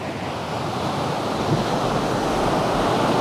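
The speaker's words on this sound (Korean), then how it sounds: "와 저기 파도가 엄청나게 친다" Ocean surf at a beach in Bali roars continuously, waves crashing and washing in a dense broadband rush with some wind noise, loud and steady, no talking.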